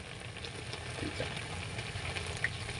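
Food frying in cooking oil in a pan gives a steady, close crackling sizzle with small pops, heard alone without talk.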